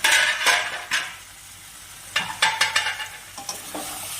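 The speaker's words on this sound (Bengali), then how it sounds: "গ্যাসের আঁচটা কমিয়ে 2-3 মিনিট ভালো করে কষিয়ে নিব।" Drumstick (sajne data) curry sautés in a pan, with a soft sizzle broken by a run of clattering spoon stirs scraping the pan, close and moderately loud, with no voices.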